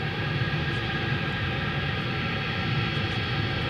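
Airliners at Dallas Fort Worth airport at night, with a 747 pushed back from the gate: a steady, loud, broadband engine roar and hum holds without a break, with no voices.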